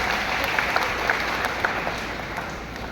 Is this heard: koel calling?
no